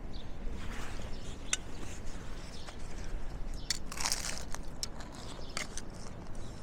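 Crunchy custard tart pastry is bitten and chewed during a break on a coastal hiking trail in Portugal, with steady close crunching crackles and faint outdoor background.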